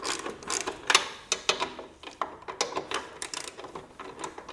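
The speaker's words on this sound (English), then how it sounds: "So I'm going to go ahead and loosen these up." Wrench work loosening the nuts on the fender bolts of a Harley Road Glide, heard as quick, irregular clicking and ratcheting bursts, close and fairly quiet, with brief pauses between runs.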